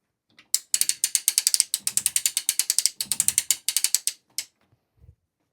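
Rapid ratcheting clicks as the bar of a long arm quilting frame is rolled, loud close-up bursts of pawl clicks in quick runs with brief pauses, ending in a soft thud.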